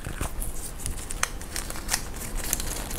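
A paper $1 bill being folded by hand, producing soft, crisp crinkles and a few sharper rustling snaps over a few seconds, close and fairly quiet.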